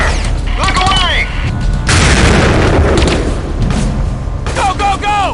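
Gunfire and heavy booms in the video game Delta Force: Black Hawk Down, a loud sustained burst of shots and blasts in the middle with voices shouting over the action before and after.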